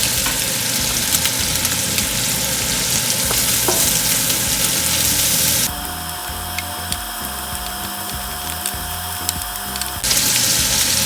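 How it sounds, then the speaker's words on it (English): Garlic and onion sautéing in a pan for Zuppa Toscana soup, a steady close sizzle with stirring, the tone changing partway through, no talk. "I'm going to put it aside like this so I can saute the garlic and the onion."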